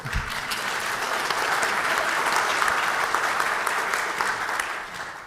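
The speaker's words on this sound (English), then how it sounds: "Thank you very much for that applause" Dense, steady applause from a conference audience at a security day event fills the room for about five seconds, loud and continuous before tapering slightly at the end, with no talking over it.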